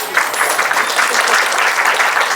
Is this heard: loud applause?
yes